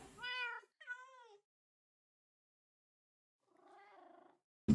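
Cats at a cat-themed play space meow in a few separate calls: two clear meows close together, a pause, then a softer, lower meow, ending with a brief bump.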